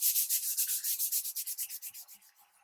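Rhythmic back-and-forth hand sanding strokes on cherry wood, about a dozen quick rasping passes, close and clear, gradually getting lighter.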